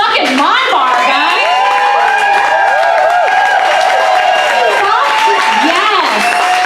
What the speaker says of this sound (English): let's give a huge round of applause to fucking My Bar, guys.